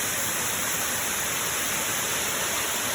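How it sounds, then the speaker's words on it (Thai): Beside the road up Doi Suthep, a small waterfall pours in a dense, unbroken hiss and rush, loud and close for the whole stretch. "นี่คือน้ำตกบนทางขึ้นดอยสุเทพครับผม"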